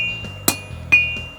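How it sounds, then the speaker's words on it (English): Hammer blows on hot steel while forging a nose punch, struck with a tilted hammer as the bar is turned: two sharp metallic strikes with faint ringing between them, close and alone. "I'm hitting the steel with a tilted hammer and turning it 60 degrees"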